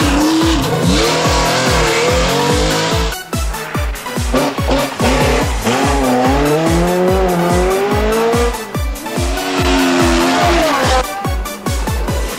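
A Vauxhall Chevette rally car, crewed by Elsmore and Warner, takes a corner too fast at a 1980 Cork rally, its engine loud and rasping as it revs up and down, with tyres squealing and skidding throughout.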